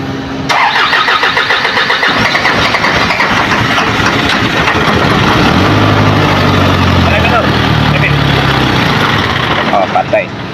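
An Isuzu 4HL1 diesel engine cranks and fires, then runs roughly and unevenly, never settling into a proper idle; loud and close throughout, with people talking over it.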